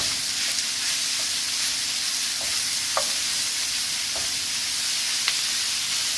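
Chopped onions fry in olive oil in a pan, producing a continuous soft sizzle punctuated by light, intermittent clicks and scrapes of a spoon stirring them.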